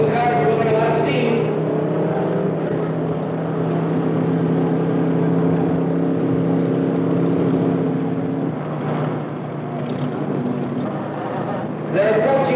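Hot rod cars, including a Thunderbird, roar in a race with loud, sustained engine drones that waver and shift pitch, the tone changing near the end as the cars pull through.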